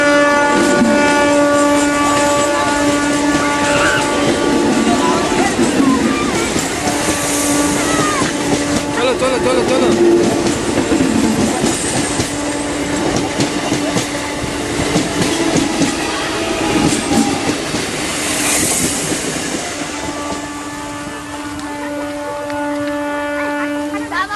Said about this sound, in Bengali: যখন তখন ট্রেন চলে আসছে